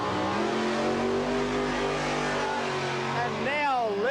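A Superstock Eliminator drag car launches at the 1991 ANDRA Nationals, its engine roaring loud and steady as it pulls away, revs climbing sharply near the end.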